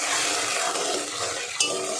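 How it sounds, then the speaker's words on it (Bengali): A spoon stirring fish curry in a pan under a steady sizzle, with one sharp metallic scrape near the end and no talking. "এবার একটু নেড়ে নেব।"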